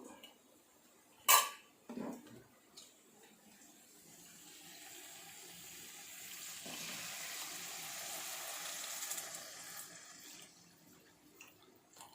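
Tamarind water poured into a spicy fish curry over fried chilli powder: a few sharp utensil clanks at first, then a steady soft splashing hiss for several seconds that fades out.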